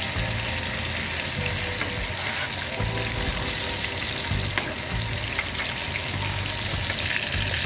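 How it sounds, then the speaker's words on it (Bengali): Sliced ridge gourd frying in hot oil in a pan after potatoes were cooked in it: a steady, close, continuous sizzle with occasional stirring scrapes and no talk. "আমি ঝিঙেগুলো ভেজে নেব একই তেলে"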